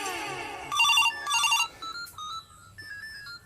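A phone ringtone plays a few bright electronic tone bursts, close and clear, with short pauses between the rings and no talking.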